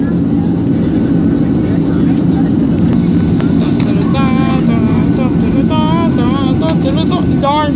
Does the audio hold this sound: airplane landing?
yes